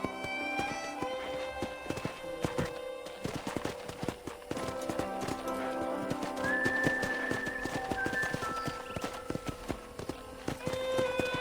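Hooves clip-clop steadily as a horse is ridden around a ranch in the Red Dead Redemption video game, the rhythmic steps close and clear over faint whistles and tonal game sounds.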